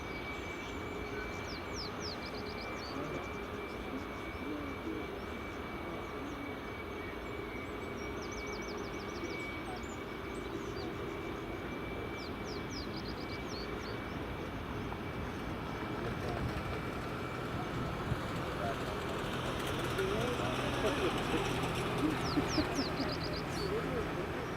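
A Ryanair airliner taxis at Edinburgh Airport near runway 24, a steady distant jet whine and low engine rumble running beneath broad outdoor noise, with faint bird chirps and people talking over it.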